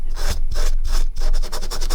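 A Scotch-Brite pad scrubbing pitted, tarnished metal, loud close rhythmic back-and-forth rasping strokes, about six or seven firm passes in quick succession with no voices.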